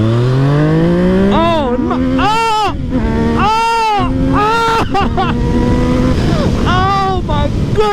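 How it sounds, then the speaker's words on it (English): A sport motorcycle engine rips through several sharp throttle blips, each rising quickly in a grunting, climbing whine that then falls away, loud and close, with a brief spoken exclamation near the start. "I like to rip the throttle here and there. I love that bottoming grunt."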